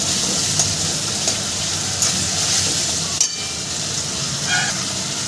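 A spice paste with green chillies fries in a pan for a Bengali fish curry, giving a loud, steady sizzle close by. A few faint clinks and scraping stirs sound over it at irregular intervals.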